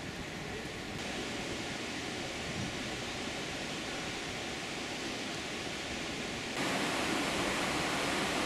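Steady, even rushing of the Charentonne river flowing through the town of Bernay in the Eure, a constant broadband wash of water heard at moderate distance with no voices.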